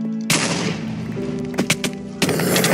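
TNT explosions in the video game Bed Wars: loud, close blasts with bursts of crackling impacts and thuds in quick succession over continuous game noise.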